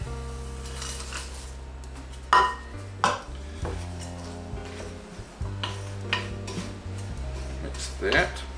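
A spoon working through ingredients for a homemade Vogels-type bread in a bowl, with irregular clinks and scrapes against the bowl rising in short bursts over a steady low background hum, close by and without talking.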